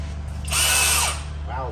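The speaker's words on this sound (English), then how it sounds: "we're going to use our 12 millimeter socket on a 12 millimeter bolt" A power tool briefly spins a 12 mm socket onto a 12 mm bolt during a Silverado 5.3 LS rear main seal replacement, giving one short, close, high whir lasting about half a second against quiet shop background.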